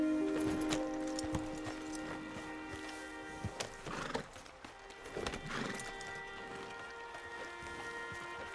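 Horses clip-clopping in the video game Red Dead Redemption 2, with faint hoof steps and a whinny under rain and steady game ambience, fairly quiet and distant.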